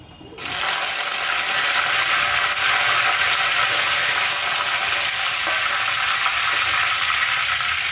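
Curry leaves hit hot oil for a Sri Lankan sambal, setting off a sudden loud burst of sizzling that then holds as a dense, steady crackle close by.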